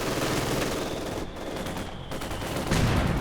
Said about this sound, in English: Snipers are opening up.